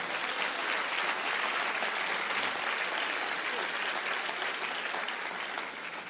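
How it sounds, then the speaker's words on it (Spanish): Church congregation applauds during a sermon with a continuous, fairly even round of clapping from many people, sustained throughout and fading slightly toward the close, with a hint of voices underneath. "Si tú quieres aplaude y si no, no"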